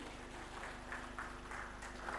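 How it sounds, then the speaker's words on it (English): Applause for visiting state assembly members during a House of Assembly plenary session, a steady, fairly faint wash of clapping over a low room hum. "Please, a round of applause for them."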